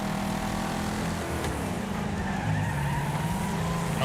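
A car in a racing video game brakes hard into a sharp corner, its tires skidding in a steady screech over a constant engine drone, moderately loud with no talking.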